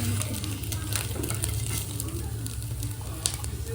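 An egg frying in a pan in a home kitchen sizzles steadily, a continuous crackling hiss with a low hum beneath and occasional small pops.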